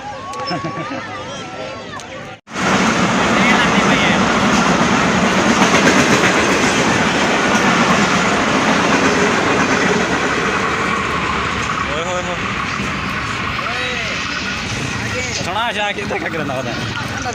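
A train rumbles past loud and close, its steady rhythmic clatter rising abruptly after a brief quiet moment and holding for the rest of the clip, with voices faintly beneath it.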